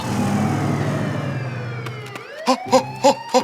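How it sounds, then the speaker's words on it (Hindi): A cartoon police siren: a long wail slides downward, then short bursts whoop out in a quick rhythmic pattern, loud and close. "ये तो पुलिस का सायरन है"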